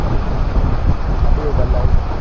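Strong wind buffets the microphone during a rainstorm, a loud continuous roaring rush with gusty swells throughout.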